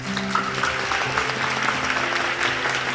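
Dense, continuous applause fills a theatre at the closing-performance curtain call of the musical Geunaldeul in 2020, loud and steady with faint sustained music underneath.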